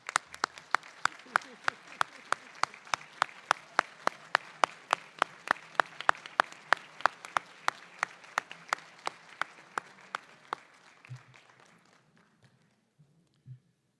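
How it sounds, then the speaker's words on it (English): At a university humanities graduate convocation, a single pair of hands claps in an even, steady rhythm for about ten seconds, close and clear, then stops, leaving faint room noise. "let us give you a very well-deserved round of applause for your support of your graduating friends"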